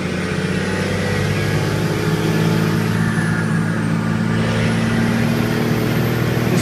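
A used six-speed Cummins Dodge diesel truck drones steadily under load from inside the cab, a loud continuous engine hum with gear changes as it accelerates.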